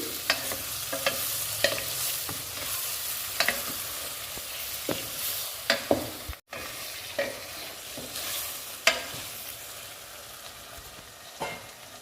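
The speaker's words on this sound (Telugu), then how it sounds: "వంకాయలు, ఉల్లిపాయలు, పచ్చిమిర్చి అన్నీ కలుపుకోవాలి" Eggplant, onions and green chillies stir-fried in a pan: a steady sizzle runs throughout, broken by repeated scraping clinks of a spatula against the pan, close and fairly loud, with no voices.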